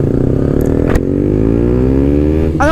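A KTM Duke 125 motorcycle engine accelerates up through the revs, with a steady rising whine and a brief throttle change near the end. The engine sounds close and loud throughout.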